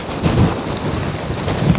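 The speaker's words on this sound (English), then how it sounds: "40 mile an hour winds" Strong 40 mph wind gusts of Storm Bert batter the microphone outdoors, a steady low rushing roar swelling in bursts without any voices.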